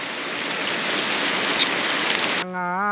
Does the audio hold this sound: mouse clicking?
no